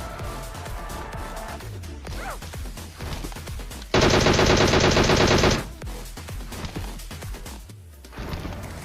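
Gunfire in the PUBG Mobile video game, with scattered shots and a dense, loud burst of rapid automatic fire lasting over a second in the middle, surrounded by quieter game sounds.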